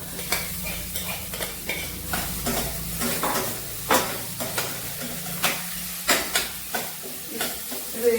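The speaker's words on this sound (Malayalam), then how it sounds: "എണ്ണയിൽ കിടന്ന ഒരു പത്ത് മിനിറ്റ് നല്ലവണ്ണം ഒന്ന് ഒന്ന് റോസ്റ്റ് ചെയ്തെടുക്കണം ഒരു ബ്രൗൺ കളർ ആവുന്നത് വരെ ഇത് നല്ലവണ്ണം ഒന്ന് ഇളക്കി കൊടുക്കണം" Soya chunks, coated in chilli powder, fry and roast in hot oil with steady sizzling, while a spoon stirs them in repeated scraping strokes every second or so, close and fairly loud.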